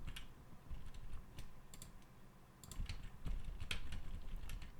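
Soft, irregular clicks of computer keyboard keys being pressed, quiet and fairly close, with uneven pauses between presses during After Effects animation work.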